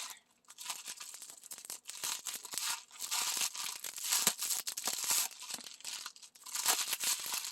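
Close, continuous crinkling and tearing of packaging tape and a cardboard package, with scratchy rustles and brief pauses, no voices.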